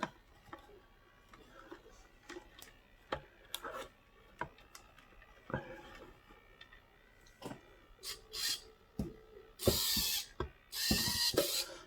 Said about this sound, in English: See, that's steering, grinding.